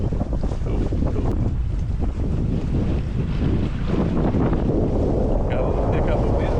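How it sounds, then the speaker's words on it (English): Steady, loud wind buffets the microphone aboard a sailboat crossing from Dominica to Guadeloupe, a continuous roar with low rumble and the wash of water beneath it, while voices can faintly be heard in the background. "Got a little pickup of wind."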